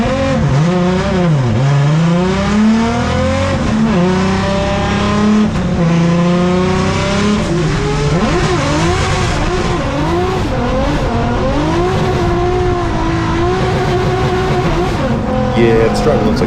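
A drift car on a mountain touge road roars loudly through repeated revs and shifts, engine pitch swooping up and down with tire squeal mixed in, close and continuous.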